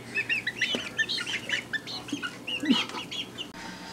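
Several chickens cluck and chatter in short bursts, fairly close, with occasional louder squawks and some wing flapping amid the flock.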